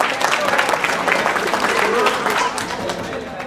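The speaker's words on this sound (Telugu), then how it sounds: "ఫస్ట్ ఆయనకు చప్పట్లు కొట్టాలి మనం." An audience claps through a gathering, a dense, steady patter of many hands held at an even level for several seconds with no break.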